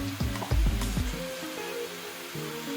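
Onion pieces and drumstick (moringa) pods dropped into a hot pan for a Telugu munakaya pulusu, landing with a couple of heavy thuds before settling into a steady sizzle, with soft background music.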